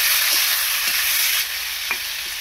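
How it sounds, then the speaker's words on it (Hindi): Onions frying in a pan while chicken is cooked village style, a steady close sizzle with a few soft stirring scrapes, no voices. "प्याज डाल के प्याज भुंजा गया है। टमाटर दे देंगे उसमें"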